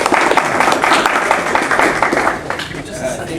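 An audience in a packed room claps in welcome for a speaker at a talk on recruiting strategies, a dense burst of close applause that thins out toward the end.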